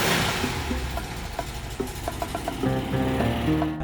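Old Bathtub Porsche engine droning while driving, a steady mid-pitched hum with rising and falling revs and a faint rattle, heard up close from inside the car with no talking.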